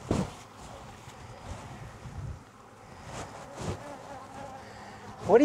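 Honeybees buzzing around a small opened hive in a Jacksonville, Florida apiary in November, a faint, steady drone with occasional louder passes close by and a few soft handling knocks.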